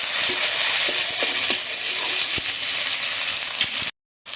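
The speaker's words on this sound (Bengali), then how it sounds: "টমেটোটা ভালোভাবে ভেজে নিই আদা রসুন পেঁয়াজ দিয়ে" Tomato frying in oil with ginger, garlic and onion for a spicy crab masala curry: a steady, close sizzle with occasional soft stirring taps, cutting off abruptly near the end.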